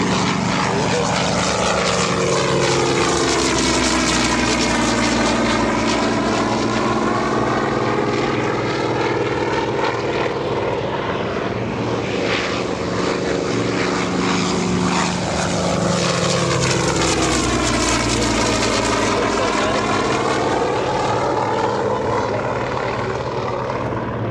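A North American B-25 warbird takes off at an airshow, its loud, steady piston-propeller roar filling the whole stretch with a sweeping, shifting drone as it passes close by.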